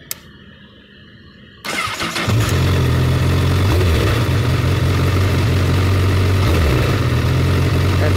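A 2017 Honda CBR1000RR Fireblade motorcycle engine cranks and fires up close by, then settles into a loud, steady idle with a deep, even hum.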